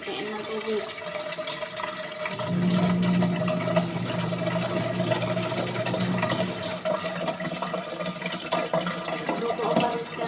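Water runs steadily from a tap into a container at home on a laundry day, a continuous splashing rush with faint background voices.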